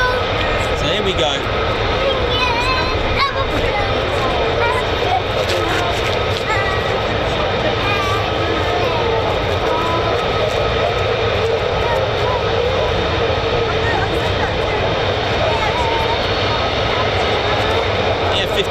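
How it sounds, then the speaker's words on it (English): An F-15E Strike Eagle with conformal fuel tanks and twin Pratt & Whitney F100-PW-229 engines roars steadily at RAF Lakenheath, a loud continuous jet rumble, with someone talking over it throughout. "The F-15E Strike Eagle."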